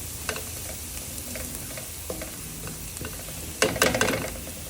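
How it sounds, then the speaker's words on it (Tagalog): Garlic frying in a pan while being stirred until golden brown, a steady sizzle with scattered scraping clicks and a louder burst of stirring and crackle near the end. "Halo-haloin hanggang maging golden brown ang ating bawang."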